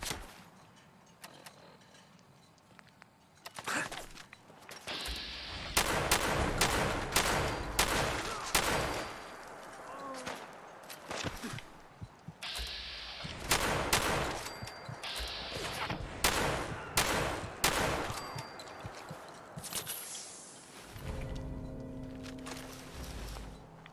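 Dense bursts of gunfire during a fight with a legendary enemy in the video game Fallout 4, loud rapid volleys repeating over about twenty seconds with brief pauses between them.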